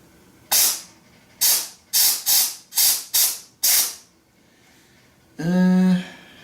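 Compressed air blasting into a BMW R65 brake caliper to push out the piston, seven short loud hissing bursts in uneven rhythm, then a longer spitting, buzzing gush of air near the end.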